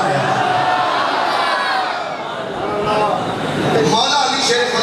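Crowd of voices raising Mola Ali slogans together at a religious gathering on Hazrat Ali's martyrdom, a dense continuous roar of chanting and shouting under a speaking voice, rising again near the end.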